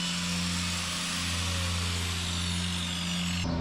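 Electric grinder trimming a cow's hoof on a farm, a loud continuous whine that holds steady for several seconds before the pitch shifts abruptly near the end.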